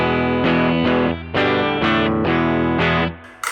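A Telecaster partscaster on its bridge pickup plays through the clean channel of a Koch Studio Tone 20 amp. It strikes a series of bright, ringing chords, each sustained roughly half a second, loud and close with no talk.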